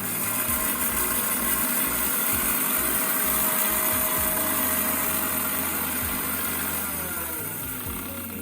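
A mixer grinder whirs steadily while grinding dried chillies on their own, a loud, continuous motor drone with a rattling churn that stays even throughout and eases off slightly at the very end.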